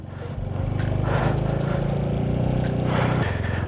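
A Pulsar motorcycle strains to climb a steep hill at Marcahuasi, above 4000 metres; its engine makes a steady, labouring drone that stays loud throughout.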